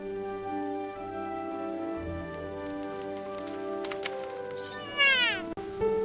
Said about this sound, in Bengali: ছোট বন্ধুরা, এটা হলো ক্যাট। ক্যাট মানে বিড়াল।